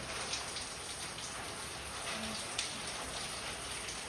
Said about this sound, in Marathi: आणि आता पाऊस रात्रभर सुरू आणि पहा आभाळ पण खूप भरलेले